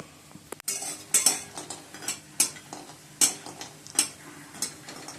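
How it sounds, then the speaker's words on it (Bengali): Sun-dried lentil dumplings frying in oil in a wok, a soft sizzle under repeated sharp clinks and scrapes of a metal spatula stirring them, close and without talk. "বড়িগুলো ভেজে নিচ্ছি, গ্যাসটা কমিয়ে দিই।"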